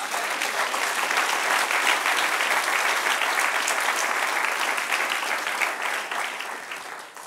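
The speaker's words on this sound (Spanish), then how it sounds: "Denle un aplauso al Señor" A church congregation breaks into sustained applause for several seconds, a dense wash of many hands clapping that tapers slightly at the end.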